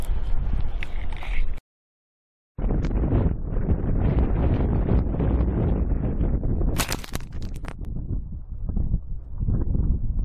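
A strong windstorm buffets an RV in heavy, roaring gusts that batter the microphone, broken by a brief moment of silence and a few sharp rattling knocks.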